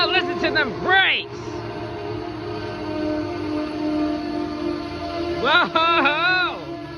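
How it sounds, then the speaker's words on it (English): Amtrak train braking at New Carrollton station, with long shifting squeals and whines from the brakes rising over a steady rumble, loudest at the start and again near the end; a person talks over it. "Well, listen to them brakes."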